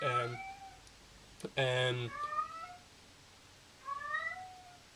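A cat meows several times, with a sharp harmonic cry near the start, a louder drawn-out meow in the middle, and a softer one at the end.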